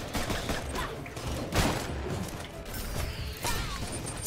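Sniper fire and combat in the co-op video game Full Metal Furies, with a dense wash of crashing impacts and bursts of game effects that stays loud and busy throughout, without speech.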